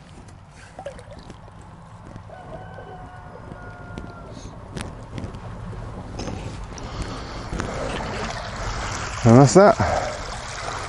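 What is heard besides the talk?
duck pond water draining through a pipe into a rice paddy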